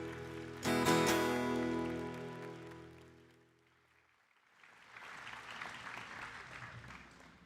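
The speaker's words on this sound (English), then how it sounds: "Give yourself a big round of applause." Audience applause at a university graduation ceremony, rising after a loud harmonic tone fades, a fairly soft, even patter of many hands in a large hall.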